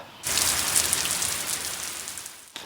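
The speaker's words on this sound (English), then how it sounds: "The rain really came down and it did not stop." Heavy rain pouring down outdoors, starting abruptly as a dense, loud, steady hiss of drops that holds unbroken for over two seconds before cutting off, with no voices.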